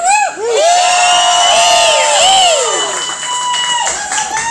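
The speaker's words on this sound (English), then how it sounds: "that's when you're supposed to like scream and holler" A concert crowd screams, whoops and hollers on cue, a loud and sustained wall of voices that swells, dips briefly and carries on to the end.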